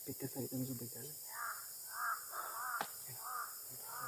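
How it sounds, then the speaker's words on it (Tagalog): Crows caw overhead in short harsh bursts spread across a few seconds, fairly faint at a distance, after a brief stretch of nearby talking. "Lagi tayo sinusundan ng uwak tol."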